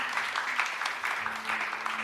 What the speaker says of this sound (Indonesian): ayo kita beri tepuk tangan yang meriah bagi Tuhan